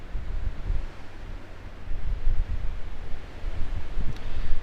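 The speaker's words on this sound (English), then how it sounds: "Winds today are only around 25 miles an hour with gusts of 35 to 40 miles an hour gusts." Strong wind gusts buffet a microphone outdoors during a drone flight in winds around 25 mph gusting to 35–40 mph, a constant low roaring rumble swelling and easing in waves with no voices.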